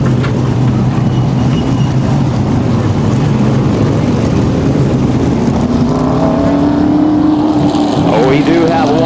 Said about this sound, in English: A little burnout down the front stretch on his victory lap.